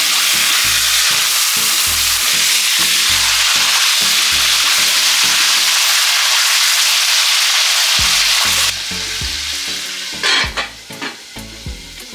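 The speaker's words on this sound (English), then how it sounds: "So I put the scallion in the pot just to have it juice out in the oil." Chopped scallion fries in hot oil in a pot for a Jamaican pot roast beef, a loud steady sizzle with rhythmic stirring scrapes, settling into softer crackles near the end.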